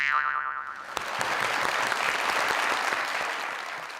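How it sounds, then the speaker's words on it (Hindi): Audience clapping in a hall after a comic remark, a loud burst of applause that begins abruptly after a short tonal sound and holds steady, fading slightly toward the end. "तभी आपने ताली बजाई"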